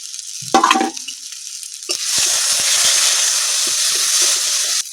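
Ground coriander, cumin and chili powder hit hot oil in a pan of cooked spice paste for a parshe fish and elephant foot yam dish; a brief clatter, then a loud, sustained sizzle with dull stirring knocks.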